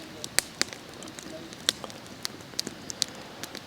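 A campfire burns among pine trees in a forest at night. Scattered sharp crackles and pops stand out against a quiet background, coming at an irregular rhythm and heard up close.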